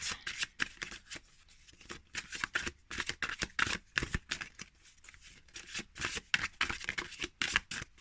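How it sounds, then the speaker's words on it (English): A deck of oracle cards being cut and shuffled by hand, a rapid run of crisp riffling snaps and papery flicks, close and fairly quiet, with no talking. "so just gonna cut the deck, and then we're gonna pick"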